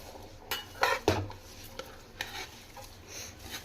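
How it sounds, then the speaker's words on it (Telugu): Rice goes into a pot of boiling water while making Muslim-style chicken pulao, with a few sharp metallic clinks of pot and utensil followed by a softer rustling patter, close and fairly quiet. "చూడండి నేను రైస్ మొత్తం వేసేస్తున్నాను."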